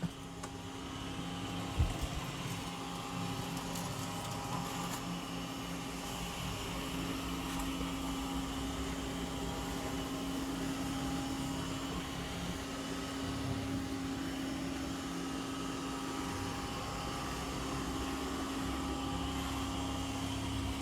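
Dreame L60 Pro Ultra robot vacuum vacuuming and mopping a room, giving a steady, even whirring hum with a faint tonal whine that holds unchanged throughout, close by and moderately quiet.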